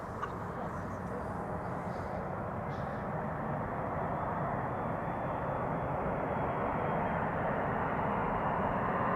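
A passenger airplane landing at Amsterdam Schiphol Airport in wintry weather, heard as a steady, broad jet engine roar that holds level and builds slightly across the stretch, with no speech over it.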